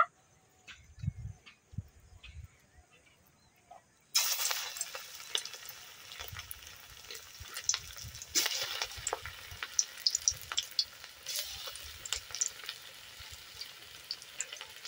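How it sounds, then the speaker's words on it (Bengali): Prawn pakoras dropped into hot refined oil, quiet clinks at first, then a sudden loud bubbling sizzle that keeps crackling and popping close by, with no talking. "তেল আমার গরম হয়ে গেছে এখন আমি একে একে পকোড়াগুলোকে ভেজে নেব"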